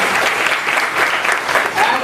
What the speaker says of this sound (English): I would request all of you to give a very, very loud applause to Devendra